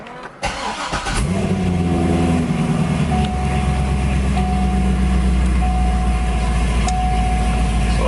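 A Chevrolet Corvette C6 cranks and fires up close by, a brief starter whir bursting into a loud rumbling engine that settles into a steady idle, with a faint intermittent beep over it.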